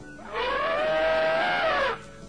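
A single elephant trumpet rises as one loud, harmonic blare held for about a second and a half, then cuts off, standing alone against a quiet background.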